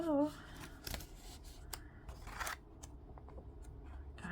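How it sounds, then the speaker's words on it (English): Paper pages of a Passion Planner are flipped quickly, giving a series of crisp rustles and snaps with brief paper swishes. Faint background sounds sit underneath. "got a little too aggressive with my page turning there"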